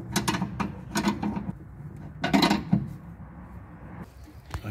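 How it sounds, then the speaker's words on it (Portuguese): A wrench ratchets close up while tightening the rear suspension stabilizer link bolt on a Honda CR-V. Several short bursts of metallic clicking come with pauses between them, and there is no talk. "Então agora eu vou apertar a bieleta."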